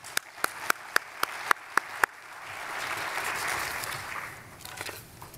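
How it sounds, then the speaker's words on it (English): Applause at a waste industry conference session opens with about eight sharp, evenly spaced single claps close by, then swells into a softer, diffuse wash of crowd clapping that fades toward the end. "Let's give them a round of applause"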